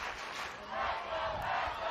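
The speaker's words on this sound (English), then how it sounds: "this crowd is loud" Loud crowd at a state championship high school softball game between Basha and Perry, a dense roar of cheering and shouting voices that swells and holds throughout.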